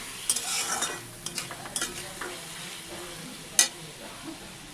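Spoon scraping and stirring thick fish curry masala being fried down in a pan for a bhola fish jhol, with soft sizzling and a few sharp clinks, one louder near the end.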